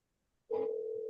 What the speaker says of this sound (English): Yeah, it's ringing now.